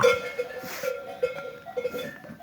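A small lamb bleats several times in short, thin cries, close by in a barn, with faint rustling and shuffling in the background.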